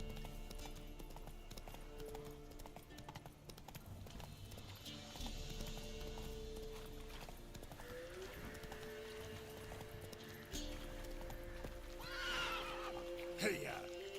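In Witcher 3, the horse Roach gallops with muffled hoofbeats over a steady game soundscape and background music, and a rising neigh breaks out near the end while a voice talks over the ride.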